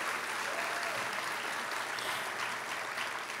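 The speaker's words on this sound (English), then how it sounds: "Give a thundering applause to each and every Cal State LA family member." A large audience at a university convocation applauds steadily, a dense, even wash of clapping that holds at full strength throughout.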